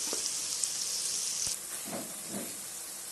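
Onions fry in a pan for an Assamese fish curry, a dense, close steamy sizzle and hiss that softens slightly midway, with a few faint stirring sounds.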